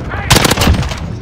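Rapid automatic gunfire from an HK G36C rifle in Call of Duty: Modern Warfare on PS5, a loud close burst of overlapping shots lasting under a second amid game noise, with faint voice in the background.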